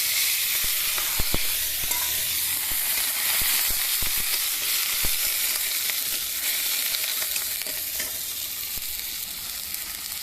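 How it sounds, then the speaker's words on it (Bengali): A loud, continuous sizzle and hiss of spices frying in a pan on a rooftop stove just as water goes in, with occasional sharp clicks of stirring. "একটু পানি দিই।"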